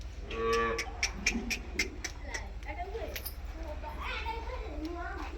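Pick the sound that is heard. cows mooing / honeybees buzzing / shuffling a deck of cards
cows mooing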